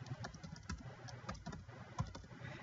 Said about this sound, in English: Then you type your name here,